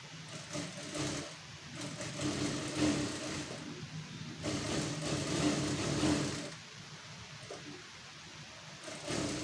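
A sewing machine stitches the lining into a blouse with a round neckline, running in steady bursts with short pauses between them, close and fairly loud.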